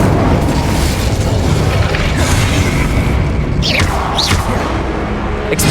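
An Incendio fire spell erupts in Hogwarts Legacy combat, a loud, dense roaring blast that fills the whole span, with a couple of sharp whooshing streaks near the end.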